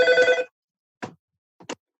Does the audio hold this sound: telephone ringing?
yes